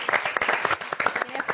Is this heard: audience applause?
yes